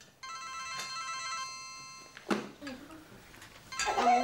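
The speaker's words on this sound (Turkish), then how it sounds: "Bir gün telefon çalıyor." A telephone rings in a Turkish sitcom household, a steady electronic bell trill running for about two seconds before clattering and voices break in; people talk and move about around it.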